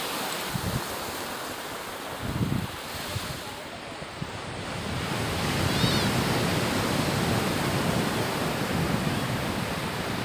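Surf rolls onto the first beach at Dahanu, a broad steady wash of waves mixed with strong wind rumbling on the microphone, growing slightly louder midway and continuing without a break.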